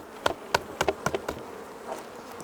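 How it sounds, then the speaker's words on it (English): Honey bees buzz on a hive crown board during a Bailey comb change, under a series of sharp knocks as the board is tapped. A low, steady hum runs beneath the close, rhythmic raps. "I'm going to just knock the bees off the crown board"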